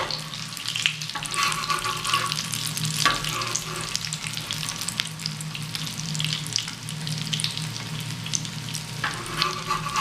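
Shami kababs fry on a flat tawa griddle with a quiet, steady sizzle that continues evenly throughout and has no talking.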